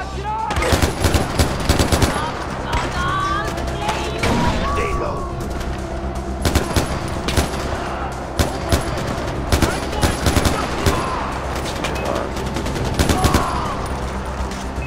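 Enemies in Far Cry 4 fire dense, continuous gunfire with overlapping bursts and loud close shots over a busy battle backdrop, while a voice talks underneath.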